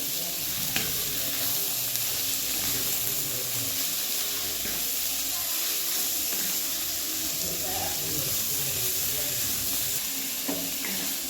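Vegetables for a rice-flour bhaji sizzle steadily in hot oil with browned garlic and chilli, stirred with scraping, clinking utensil sounds throughout, close and continuous.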